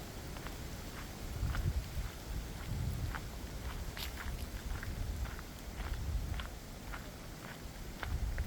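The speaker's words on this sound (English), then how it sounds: "this rain does feel quite cold" Cold rain falls outdoors on a country estate in Greater London, a soft steady patter with scattered drops and occasional footsteps, no voices.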